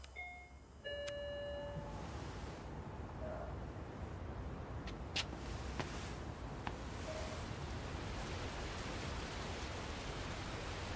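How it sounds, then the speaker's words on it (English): Steady rain in a video game, a continuous broadband hiss that starts abruptly and holds at an even level, with a few faint chimes and tonal blips over it. "Oh, it's raining"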